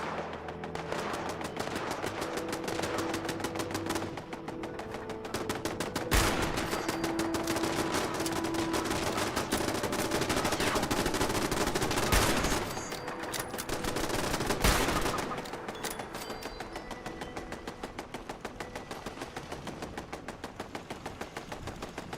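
Robot enemies fire guns in Fallout 76, sustained rapid bursts of automatic gunfire crackling almost without pause across the whole stretch, with a few sharper, louder shots standing out midway.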